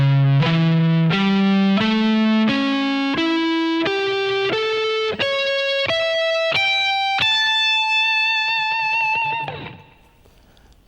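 Electric guitar with heavy distortion plays an arpeggio inversion, a steady ascending run of roughly thirteen picked notes ending on a long held tone that fades near the end, loud and up close.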